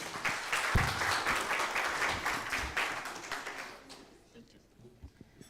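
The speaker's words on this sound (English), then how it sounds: "Can we please give her a round of applause?" Audience clapping at the official launch of an ICT education project, a full round of applause from many people that holds steady, then fades away after about four seconds into room noise and faint talk.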